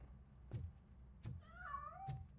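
A cat meows in the RoboCop: Rogue City video game, a clear wavering call heard between several dull, muffled thumps against quiet background ambience.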